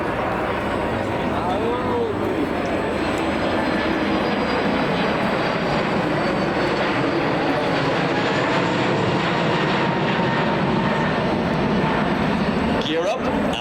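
An Aer Lingus A321XLR airliner at an air display over Bray seafront applies full power and climbs away, a loud continuous jet roar and rumble with a commentator talking over it.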